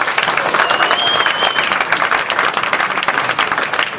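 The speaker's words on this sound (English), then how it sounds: "I think you should give yourself a round of applause" Sustained applause from an audience at a trade union branch speech event in Nottingham, loud and dense throughout, with a faint whistle riding over the clapping.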